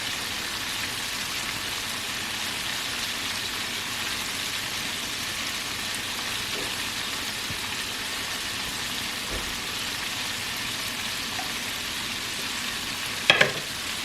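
Flour-coated shrimps frying in hot oil, a constant dense crackling sizzle like steady rain, with a couple of brief louder clinks of the pan near the end.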